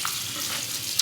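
Cabbage is rinsed under a running kitchen tap, a brief, steady, close splash and rush of water with no talking.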